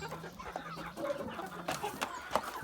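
Black Livenska calico hen clucking softly in a poultry yard, a few low close murmuring clucks over faint background rustle.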